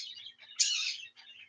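An indoor bird chirps in short, bright bursts, with one louder, longer call in the middle, fairly close in an otherwise quiet room.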